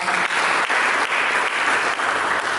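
Church congregation applauding at a Pentecostal-style service, steady dense clapping that fills the space evenly for a couple of seconds.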